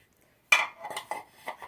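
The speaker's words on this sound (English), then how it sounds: "I have 2 normal muffin pans." Metal muffin pans are handled and set down, with a sharp clatter followed by several lighter clanks and knocks in an uneven rhythm, close and fairly loud.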